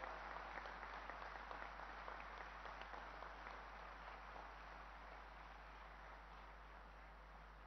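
Sustained applause from a large crowd welcoming the Prime Minister at Scindia School, Gwalior, a dense steady clapping that carries on for several seconds at moderate volume with a low background hum.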